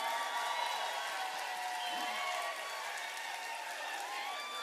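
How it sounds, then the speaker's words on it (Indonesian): At an unplugged concert, a large audience keeps up a continuous wash of applause mixed with cheering and scattered whoops, heard at a distance and fairly soft throughout. "boleh tak berikan tepukan kepada Kak Rozi saya"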